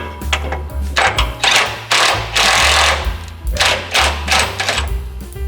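Nut being tightened onto a steering gearbox, heard as loud, close metallic ratcheting or rattling bursts in repeated pulses, a few of them long and sustained, with no talk.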